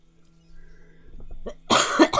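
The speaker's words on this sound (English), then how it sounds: "Sorry for that cough." A single person coughs close by, a short harsh burst with a second push, after a quiet stretch of faint background sounds and soft clicks.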